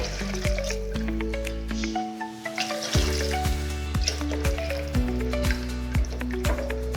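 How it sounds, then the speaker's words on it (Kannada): Water pours and splashes into a metal pot in uneven bursts, with drips and a rising, ringing fill tone close by. "ಹಂಗಾಗಿ ನಾನು 3 ಲೋಟ ನೀರು ಹಾಕ್ತೀನಿ"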